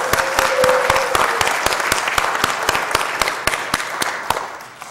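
An audience at the NASDAQ closing-bell ceremony gives a warm round of applause for Lifeway Foods' 25th anniversary, with crisp individual claps standing out over dense clapping that thins slightly toward the end.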